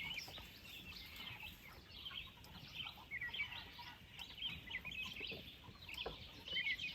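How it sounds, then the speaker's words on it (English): Chickens cluck and birds chirp softly outdoors on a foggy 58-degree morning at an off-grid workshop site, faint and scattered over quiet background noise. "The birds are out."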